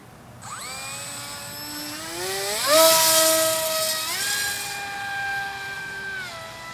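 Electric motor of a Hawk Sky RC plane whining as it spins up in steps, its pitch climbing sharply and then settling into a steady, loud, close drone with no talk over it.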